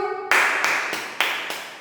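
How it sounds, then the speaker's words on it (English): A nursery class of young children clap in unison at the teacher's call, giving several sharp, evenly spaced group claps about a third of a second apart, each sounding as one loud crisp burst that fades quickly before the next. "Now clap all of you."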